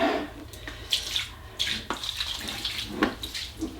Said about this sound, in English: I need to empty out all this dirty water.